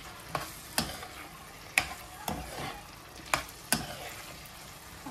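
Chickpeas and yogurt get stirred into a frying masala in a pan, a low sizzle under repeated sharp scrapes and knocks of the spoon at an uneven rhythm.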